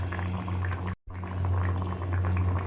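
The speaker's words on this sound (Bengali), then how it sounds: "তরকারি ফুটতে শুরু করে দিয়েছে" Fish curry boiling in a pot, a close, steady bubbling and simmering hiss with a low hum underneath, continuous apart from a brief cut in the middle.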